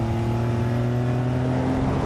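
A 450 hp turbocharged convertible sports car accelerating gives a steady, loud, droning engine note with strong low harmonics that holds constant for about two seconds, close up and without talk.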